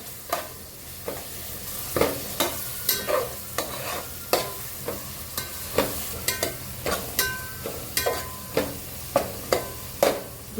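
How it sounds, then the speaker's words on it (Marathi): Soaked rice sautéing in oil for prawn biryani gives a steady background sizzle punctuated by regular scraping strokes of a spoon against the pan, roughly one every half second, close and clear. "सुद्धा छान तेलावरती आपण परतून घेऊया"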